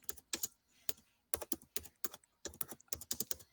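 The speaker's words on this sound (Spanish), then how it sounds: "mientras escucho la máquina de escribir por ahí" Typewriter keys clatter in uneven bursts of sharp, close clicks, with short pauses between runs of strokes, heard clearly with no voices over them.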